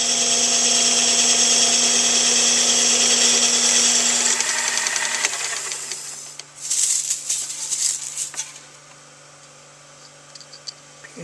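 A lathe tool bit turning a fabricated metal base down to thickness, giving a steady high whining cut over a motor hum that turns rougher and chattery near the end before it fades out.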